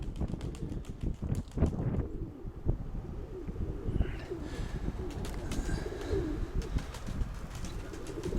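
Pigeons coo in soft repeated low calls close by, with a faint rustle and a few flaps of wings in the background and no talking.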